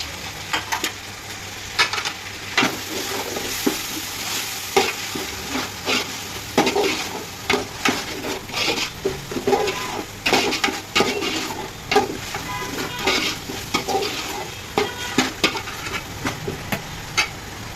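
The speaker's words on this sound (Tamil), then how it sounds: "இதில் வந்து பாதி அளவு நம்ம வந்து இப்போ சேர்த்துக்கிறோம், புதினாவும் மல்லியும்." Mint and coriander leaves fry in a pan while being stirred, giving a steady close sizzle broken by frequent rhythmic scraping and clatter from the utensil against the pan.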